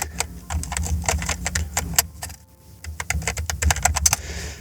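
Rapid clicking keystrokes on a computer keyboard while entering a search, close and crisp, in quick bursts with a brief pause midway.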